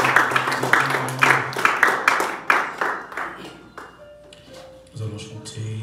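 A church congregation claps in a quick, regular rhythm, loud and close, the applause fading after about four seconds as a sustained organ or keyboard tone takes over.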